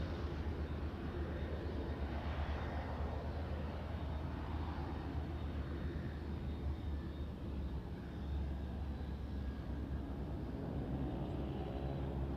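A WestJet airliner taxis at Kelowna airport, its engines giving a steady, continuous broadband roar and whine that holds at an even level throughout with no voices.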